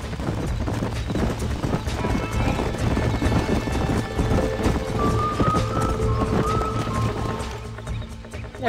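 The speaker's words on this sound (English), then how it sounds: "These are fine horses." Horses trotting with steady clip-clop hoofbeats in the Red Dead Redemption video game, loud and continuous over a ranch setting, with a brief neigh and background game ambience.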